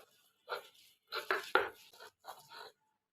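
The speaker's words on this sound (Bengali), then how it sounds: "আর শিল্পাটা বাটলে তো ঠুসটাস একটু শব্দ হবে" Beef is ground on a shil pata stone, giving a few short, close scraping and thudding bursts separated by brief silences.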